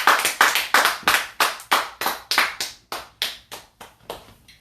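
A church congregation claps in unison, a steady run of about fifteen sharp claps that slowly fade, ringing in a reverberant hall with no voices over them.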